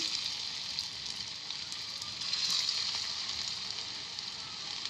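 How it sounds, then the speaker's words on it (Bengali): Cauliflower and potatoes fry in white oil in a wok, giving a steady bright sizzle with crackling pops that swell slightly midway, close and moderately quiet, with no talking. "সাদা তেলে এগুলোকে ভেজে নেব।"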